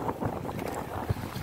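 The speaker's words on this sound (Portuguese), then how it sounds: "Muito vento hoje, pessoal. O mar tá bastante agitado aí, ó." Strong wind buffets a fishing boat on rough open sea, a steady blustery roar of wind noise on the microphone with a deeper thump of water near the end.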